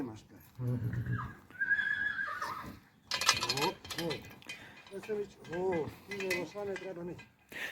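A mare whinnies close by amid people talking, with shuffling and creaking sounds in the background.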